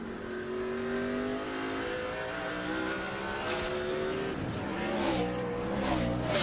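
NASCAR Cup race cars circle Infineon Raceway (Sears Point/Sonoma) in 2006, their engines droning and rising in pitch as they pass, several cars overlapping at a distance with occasional louder surges.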